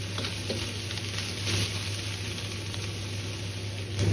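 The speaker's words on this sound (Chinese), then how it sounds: "锅中留少许的油，下入控干水分的圆白菜，先翻炒。" Drained cabbage stir-fried in a little oil in a wok makes a continuous sizzle, with stirring scrapes and a brief louder flare of frying.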